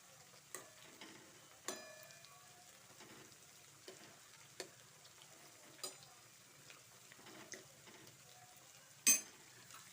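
Food cooking in a pan is stirred at intervals, with faint sizzling under scattered scrapes and clinks of a utensil against the pan, and one louder knock near the end.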